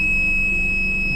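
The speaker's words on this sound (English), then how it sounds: "Now continuous alarm is coming," An oxygen concentrator's low-flow alarm sounds as a continuous, steady high-pitched electronic tone over a low machine hum, unbroken for the whole moment.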